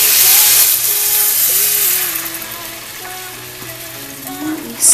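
Country gravy with milk being stirred in a pan: a steady, close hiss and gentle bubbling simmer, with a soft scrape of the spoon near the end.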